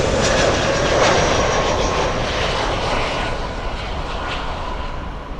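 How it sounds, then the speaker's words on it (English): A British Airways Airbus A380 taking off at Miami International Airport, a loud broadband jet engine roar filling the whole stretch, rumbling steadily and easing slightly as it goes, with no talking. "We're gonna have the Speedbird A380 take off"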